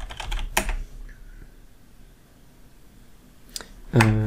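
Typing on a computer keyboard comes in short bursts of crisp key clicks, a quick flurry at the start, a long quiet pause, then another cluster of taps at the end, close and fairly clear.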